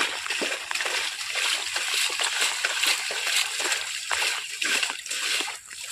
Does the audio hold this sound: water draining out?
yes